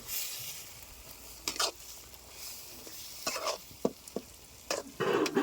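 Eggplant curry with chili powder and salt being mixed in a pan, with a quiet sizzle under intermittent scraping and stirring strokes that grow busier toward the end, close by with no talking.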